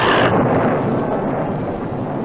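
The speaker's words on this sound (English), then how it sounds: "The thunder." A deep, rumbling roll of thunder used as a sound effect in a grindhouse horror movie trailer, loud and sustained, dense low roar slowly fading.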